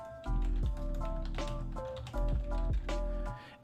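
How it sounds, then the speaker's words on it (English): Keyboard typing, with quick clustered clicky keystrokes in short bursts, close up and moderately loud, over a steady low background drone. "Let me type that in."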